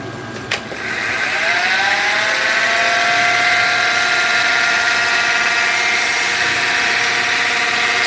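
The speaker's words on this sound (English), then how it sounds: "But yet I'm turning a pen with wood and plastic." A lathe spins a wood and plastic pen blank in a steady, high-pitched whir that rises to full speed after a brief click and holds, loud and close, with no talk.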